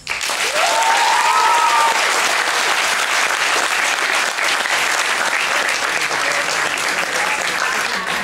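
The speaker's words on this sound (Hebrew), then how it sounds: "אז נגיע להם כפיים." An audience applauds a youth theatre troupe after a Beer Sheva youth performance, steady dense clapping filling the room loudly and evenly throughout, with a brief whistle-like tone near the start.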